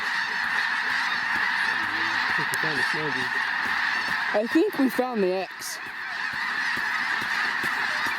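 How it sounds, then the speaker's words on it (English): A flock of snow geese honks overhead during a goose hunt, with bursts of loud, close honking rising over steady wind and crowd noise as someone talks. "We're starting to get put into a goose tornado right quick here."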